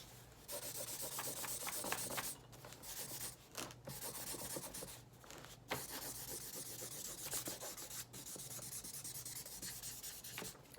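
A marker rubs back and forth across paper while shading part of a folded sheet, giving soft, close scratchy strokes in irregular bursts with brief pauses, quiet and without talk.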